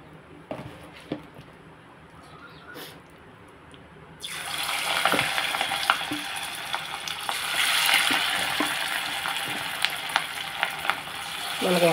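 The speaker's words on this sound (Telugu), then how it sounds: "ఇప్పుడు మనం స్టవ్ వెలిగించుకుని ప్యాన్ పెట్టుకుని బజ్జీ వేసుకుందాం" Bajji batter made with black gram and rice flour drops into hot oil in a pan, bursting into a loud, steady sizzle partway through after quieter kitchen rustling and faint knocks.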